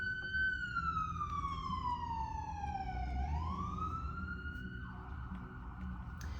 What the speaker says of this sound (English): You're gonna hear an ambulance here in a second.